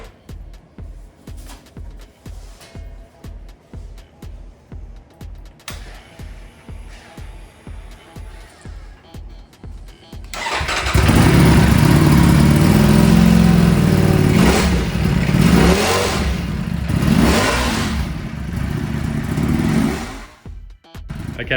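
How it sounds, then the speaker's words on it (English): A Ducati Panigale V4 fitted with an Arrow exhaust cranks over in a garage with a rhythmic starter churn, then fires up into a loud, close, sustained roar with repeated throttle blips and revs before cutting off. "we'll probably start this bike up as well"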